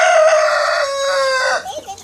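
A chicken gives a loud, close, drawn-out call, then a few short clucks at the end.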